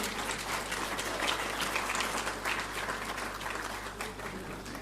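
Steady applause from a crowd at a photography awards ceremony, dense clapping that holds at an even level throughout without pauses or voices.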